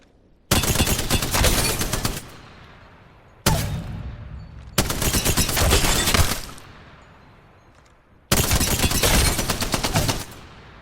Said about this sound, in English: I'll show you the Spitfire in all its glory